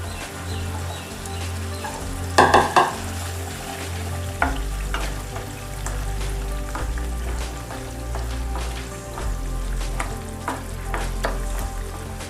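Boiled chickpeas are tipped into spice masala frying in a pan, bringing a continuous soft sizzle with scraping stirs and occasional clunks of the spoon against the pan, under a low steady hum.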